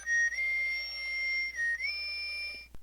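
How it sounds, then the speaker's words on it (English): A ThinkGeek Proto Buster replica powers on with Proto Man's whistle from Mega Man, a clean electronic melody of sustained high tones that step up and down, played alone and clearly before cutting off with a click. "that is Proto Man's iconic whistle."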